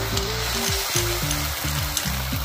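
Tomato puree going into fried eggplant in a pan, a steady close sizzle with a low, stepped humming tone underneath and a couple of faint clicks, no talking.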